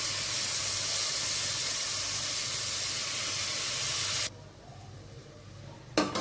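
Chopped onions frying in oil in a pan with roasting peanuts, a loud steady sizzle and hiss that drops abruptly to a quieter simmer partway through, then a brief burst of noise near the end.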